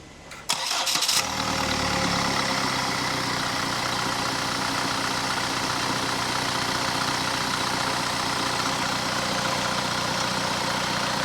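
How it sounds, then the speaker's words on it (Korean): A Kia Carnival engine, with no transmission fitted, cranks briefly and catches, then settles into a loud, steady idle that carries on alone for several seconds. "시동 걸어봐"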